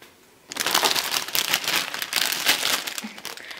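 Paper wrapping torn and crinkled off a strawberry-flavoured Hello Kitty Pocky box, a close, continuous rustling and crumpling that starts abruptly after a short quiet moment.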